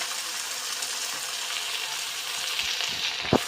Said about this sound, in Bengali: এবার ভালোভাবে নাড়াচাড়া দেওয়া হচ্ছে দেখুন।